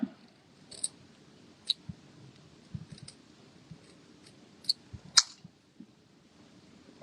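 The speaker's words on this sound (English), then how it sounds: "I'm just going to trim those off." Paper edges trimmed with a small cutting tool give scattered, faint, crisp clicks and snips at irregular intervals over a quiet background, with one sharper snap near the middle.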